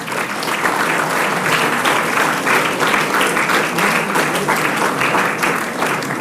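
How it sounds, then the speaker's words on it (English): A hall of students at a Kargil Vijay Divas gathering at CSIR-CECRI claps together in a steady, dense burst that holds evenly for several seconds. "Let us all clap together."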